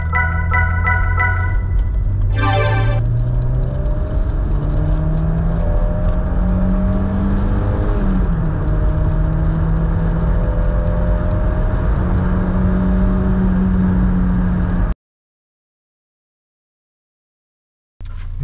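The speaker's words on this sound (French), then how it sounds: "on va aller essayer sur route cette BX pour se rendre compte de ses qualités dynamiques" Citroën BX 1.9 GTI from 1992 driving on a country road, its engine droning steadily and loud throughout as it revs and shifts through gears, with a brief rattle early on and then a short silence near the end.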